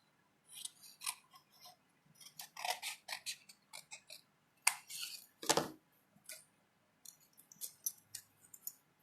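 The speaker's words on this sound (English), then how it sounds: "I'm just going to cut him off." Scissors snip through an enamel decal in short, crisp bursts of close cutting, with brief pauses between the runs of clicks and no talking.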